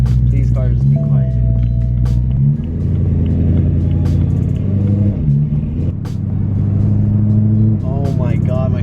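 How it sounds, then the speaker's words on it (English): A BMW E92 M3 with a loud exhaust rumbles up close with a deep, throaty tone and brief revs rising and falling, while people talk over it. "Oh my god, my car is so loud."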